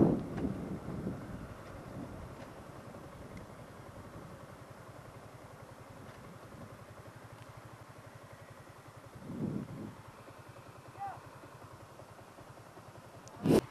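A loaded Honda 125 motorcycle engine drones steadily throughout with a muffled, windy rumble, swelling louder briefly near the start, around the middle and at the very end.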